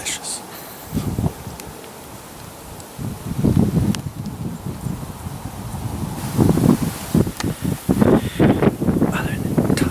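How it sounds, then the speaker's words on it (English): Strong gusty wind buffets the microphone in rough, surging bursts at a Michigan bowhunting camp, with rustling and roaring swells rising and falling. "Other than tolerating this horrible wind for the last 2 hours"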